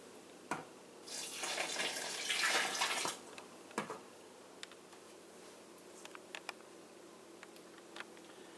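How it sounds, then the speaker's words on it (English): Very hot water is poured into the metal can of a Coopers Dark Ale home brew kit, making a fairly quiet two-second splashing pour, followed by a few faint clicks and taps. "as you're pouring this very hot water in, the can obviously gets hot"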